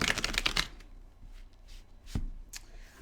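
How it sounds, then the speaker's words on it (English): A deck of tarot cards is riffled and shuffled by hand, giving a loud burst of rapid crisp flutters in the first moment, then quieter handling with a single sharp tap and a light shuffle near the end. "One more shuffle ought to do it."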